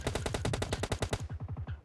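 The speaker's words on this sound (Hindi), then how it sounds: "भाई देखो सामने से फायर आ रहा है" Rapid automatic gunfire from a PUBG Mobile Lite match, a loud sustained burst of evenly spaced shots that gives way to a slower string of single reports toward the end.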